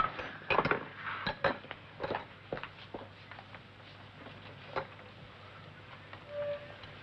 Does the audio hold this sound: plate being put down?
yes